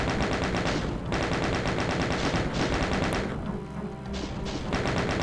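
Doom II weapon fire from the player's gun, rapid repeated shots in fast rhythmic bursts, loud and close, pausing briefly twice before resuming, with game noise underneath.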